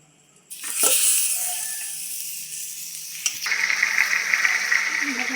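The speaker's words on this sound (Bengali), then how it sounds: "দেখো আমি তেলে নুন দিয়ে ভালো করে একটু নাড়াচাড়া করে নিলাম এবার আমি একটা একটা করে মাছ দিয়ে দেবো" Fish pieces dropped into hot salted oil, a sudden loud sizzle that settles into steady frying hiss, then swells again as another piece goes in, with a voice talking over it.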